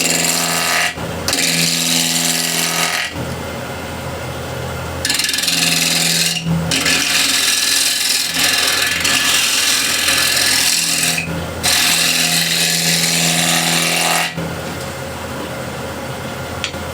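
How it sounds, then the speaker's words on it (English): A ball gouge rubs against spinning wood on a lathe, giving a loud, continuous rasping scrape up close, broken into several long passes by brief pauses. "ball gouge, and I'll just rub this out first"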